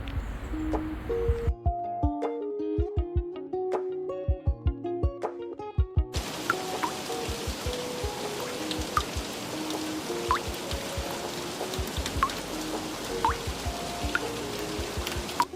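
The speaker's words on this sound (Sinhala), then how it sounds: "එකපාරටම වැස්සක් පටන් ගත්තා" Rain falls at a reservoir park, heavy drops plinking and dripping in an uneven patter over a steady wash of rainfall, with a brief quieter stretch early on and no voices.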